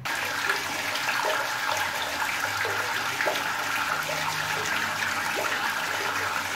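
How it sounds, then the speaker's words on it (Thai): Water pours steadily into a tank through an automatic float valve, a continuous rushing, splashing flow at close range with no pauses over the whole stretch. "หลังจากน้ำได้ระดับของวาล์วลูกร้อยนะคะน้ำจะปัดอัตโนมัติค่ะ"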